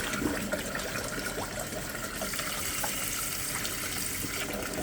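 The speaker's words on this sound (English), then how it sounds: "And then I'm going to dump some water out." Water poured out of a fish tank into a sink during a water change, a steady broadband splashing rush that runs continuously at close range with no talking.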